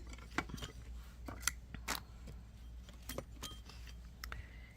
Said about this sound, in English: Cut the sharp end off this side